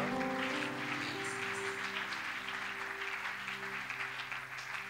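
A church congregation breaks into sustained applause during a family prayer service, a dense, even wash of clapping from many hands with a faint sustained musical tone underneath.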